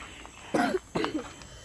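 Two harsh coughs in quick succession, close and fairly loud, over faint background noise.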